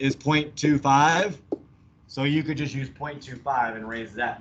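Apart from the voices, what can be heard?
No everyday noises stand out.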